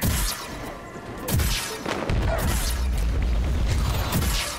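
A cactus fires repeated shots in Plants vs. Zombies Garden Warfare 2, a string of crisp cracks and thuds at uneven intervals, mixed with louder booms and clatter from the surrounding battle.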